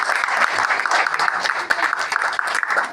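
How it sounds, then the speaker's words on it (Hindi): At a Hindi poetry gathering in Ghaziabad the audience breaks into hearty applause, a lively crackle of many hands, loud and close, with a few sharper individual claps standing out. "एक बार जोरदार तालियां हो जाए"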